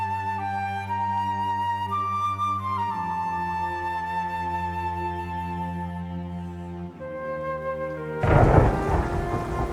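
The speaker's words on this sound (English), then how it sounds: "it is raining on the Cornish coast." Steady rain and low rolling thunder sit beneath a sustained, droning musical pad, with the rain swelling into a heavier, louder wash near the end.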